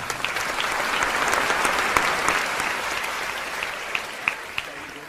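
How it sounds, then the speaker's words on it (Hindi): A crowd claps steadily for several seconds, dense sustained applause with a few sharper individual claps standing out. "पुनः तालियां"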